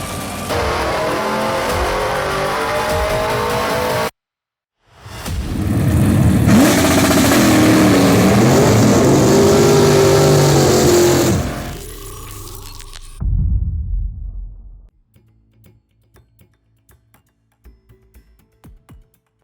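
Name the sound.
1969 Hemi 426 engine running and revving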